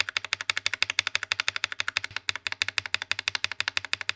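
Rapid, even typing on a mechanical keyboard fitted with Akko switches, each keystroke a crisp, poppy clack, close and continuous without pause.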